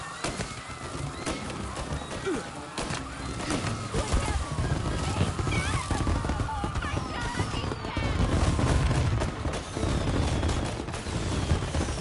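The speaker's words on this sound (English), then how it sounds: "And now for the fireworks" Fireworks in Mafia Definitive Edition, a dense crackling barrage of pops and bangs going on throughout, layered with crowd-like noise and a low rumble, loud and busy with no pause.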